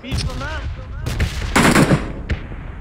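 Gunfire rings out in a mobile battle royale video game, a sharp burst of rapid shots followed by a single loud report, close and loud over faint background voices.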